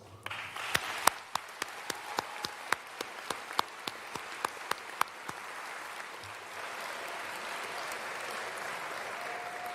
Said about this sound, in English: show how much you appreciate all that they've done for you with a loud round of applause